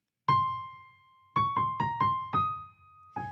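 A piano plays a turn on C with a flattened upper note: six clear, separate struck notes in a quick ornamental rhythm with a short gap after the first, each ringing and decaying, played alone.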